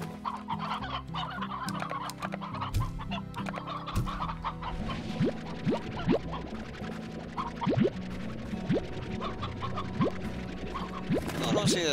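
Chickens in the Slime Rancher video game cluck continuously, a busy overlapping chorus of short clucks and squawks from several birds, close and fairly loud, with occasional musical tones underneath.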